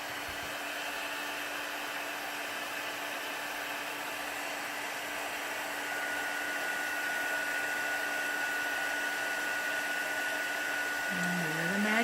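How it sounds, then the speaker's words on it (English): Heat tool blowing hot air over embossing powder on a craft card, a steady close whir with a constant hum that keeps on for the whole stretch with no voices. "let's go ahead and make some more noise here and heat it up"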